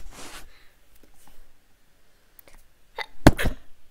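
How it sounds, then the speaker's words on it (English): One sharp sneeze bursts out near the end after a quiet stretch of faint rustling and breathy noises, loud and close. "Why did I sneeze?"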